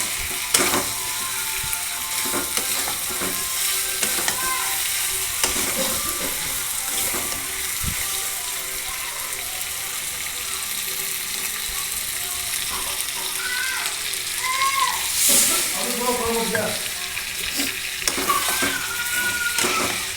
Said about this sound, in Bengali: এবার আমি মাংসটাকে ভালো করে কষাতে থাকবো